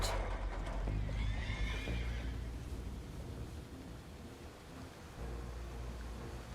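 Horses neigh and whinny loudly in the Red Dead Redemption 2 video game, their cries rising over a dense, rumbling bed of hooves clip-clopping and rushing movement, with no talking.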